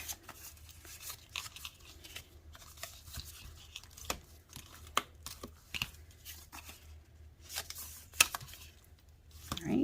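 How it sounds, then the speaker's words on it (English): Cardstock being folded and creased with a bone folder, a series of close, sharp papery scrapes, crinkles and rustles in irregular bursts against a quiet background. "we're going to fold them. Make sure you use your bone folder. Get a good crease down the middle"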